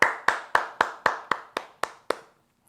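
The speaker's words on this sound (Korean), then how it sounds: "우리 감사와 찬양의 박수 다시 한번 올려드립시다" Church congregation clapping in a slow, steady rhythm, nine crisp claps evenly spaced and fading slightly in strength before stopping, with no voices.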